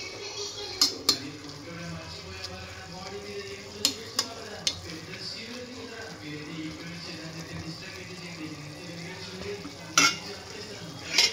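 Spinach curry simmering and cooking in a pan, a steady soft bubbling sizzle with a few sharp clinks of a spoon or utensil against the pan scattered throughout.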